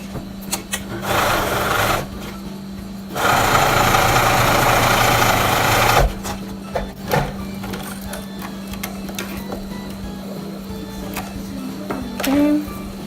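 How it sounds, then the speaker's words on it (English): Sewing machine zigzag stitching thick wool fabric for cloth diaper longies, with a lengthened stitch: loud close motor whirring in two bursts, the second longer, then quieter handling and brief stitching. "use a zigzag stitch again"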